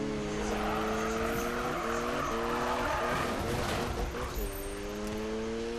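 Tires squeal loudly and continuously as a car drifts in Need for Speed 2015. The engine whines with repeated pitch sweeps while it revs, and the sound fills the whole stretch close and intense.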